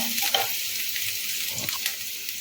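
Vegetables for a veg quesadilla lightly frying in a pan, a constant hissing sizzle with a few soft stirring scrapes; brief, close and steady, with no voices.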